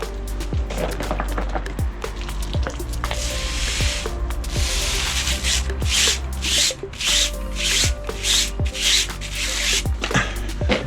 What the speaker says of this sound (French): c'est de coincer la brosse comme ça et de faire tourner la roue